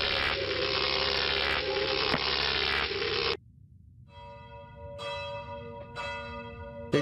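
A church-style bell rings in a horror video game, several sustained tolling strikes with long ringing overtones, heard clearly after a loud droning ambience cuts out.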